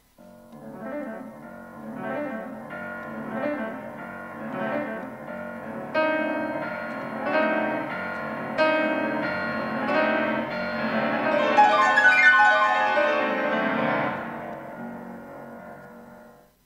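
Solo piano plays a prelude, "What the West Wind Saw," with swelling, rippling figures that build to a bright climax, then fade.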